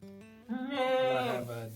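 A bottle-raised Nubian dairy goat gives one loud, drawn-out bleat close by, rising and wavering for over a second.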